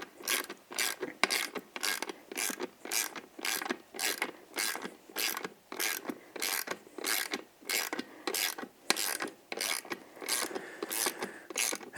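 A hand ratchet clicks in rapid, rhythmic bursts as beadlock wheel bolts on RRW hybrid mono-forged wheels are torqued in a star pattern, each stroke a crisp close run of pawl clicks with short pauses.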